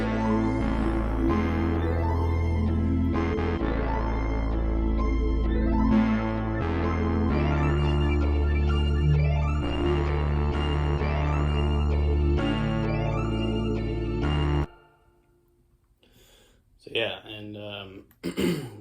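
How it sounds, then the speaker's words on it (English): Synth melody in a trap style with accent notes, layered chords, an arpeggio and a heavy bass line, playing loud and dense for about fifteen seconds before cutting out, followed by a brief voice. "with the accents and the chords, arp, and bass line, sounds like this"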